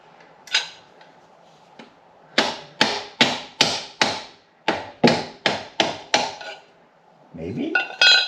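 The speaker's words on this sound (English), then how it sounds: "Guess we'll just try smacking it with the hammer." A hammer strikes a part of a Subaru Forester EJ25 engine during engine removal a dozen times in a quick, steady series of sharp, ringing blows, preceded by a couple of isolated knocks.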